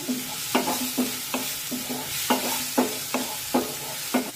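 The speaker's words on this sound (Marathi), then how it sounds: "गॅसची फ्लेम अगदी मंद ठेवून हे मिरचीचं वाटण परतून घेऊया।" Green chilli paste being sautéed in a pan over a very low flame, with a soft, steady sizzle beneath roughly ten evenly spaced, close scraping stirs of a spoon.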